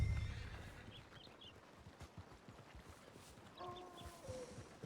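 A horse whinnies and clip-clops in a Western roleplay video game, the neigh rising faintly at the start and again near the end over soft hoofbeats, with no talk.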